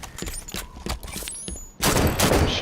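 Video game gunfire aimed at a target, a rapid burst of shots in a virtual arena, followed by a louder, denser spray of fire near the end.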